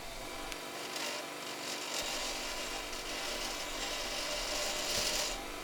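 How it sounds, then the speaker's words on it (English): A wooden pepper grinder being restored is worked against a grinder, giving a steady, continuous rasping abrasion with slight swells in intensity and no talk. "So now, a little bit of grinding."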